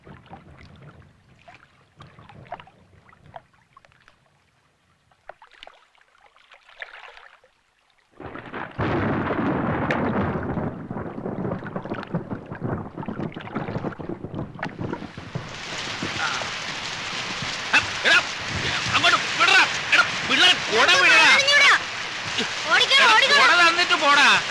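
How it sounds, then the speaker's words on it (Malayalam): Heavy rain with rumbling thunder builds from a quieter start into a dense, steady roar that swells even louder partway through, filling the scene in a Malayalam film. "മഴ വരുന്നുണ്ട്, പെട്ടെന്ന് വിട്ടോടാ"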